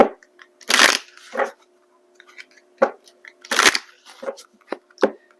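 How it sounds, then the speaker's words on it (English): Tabby Tarot Teacher tarot cards being shuffled, close riffling bursts in uneven groups separated by brief quiet gaps, crisp and papery with no speech. "I'll be pulling from my Tabby Tarot Teacher deck here."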